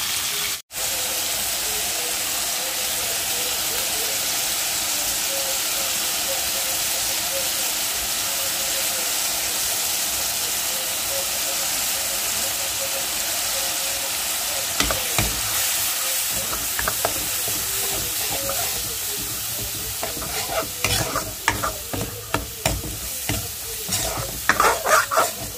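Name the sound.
fish frying in a pan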